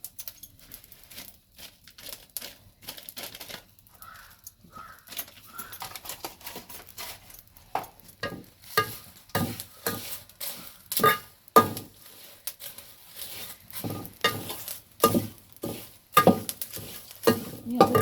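Henna and amla powder are stirred into a mixture, making a soft rhythmic scraping and swishing that starts quiet and grows steadier and louder.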